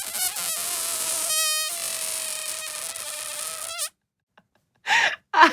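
A rubber balloon squeaks and whines as air escapes from its neck, a long wavering squeal with brief breaks, close and fairly loud; it stops abruptly, then after a pause a few short squeaky bursts follow.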